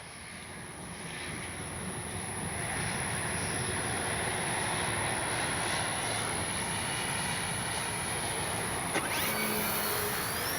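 A Durafly Excalibur V2 RC hotliner plane flies high overhead, a thin, distant, steady electric whine holding for about ten seconds with no talk.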